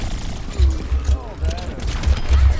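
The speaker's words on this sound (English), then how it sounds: "I just launched like a ton of grenades into her face" Grenades launched in rapid succession during an Overwatch match, loud dense booms and bursts stacking over each other, with game effects and a voice under them.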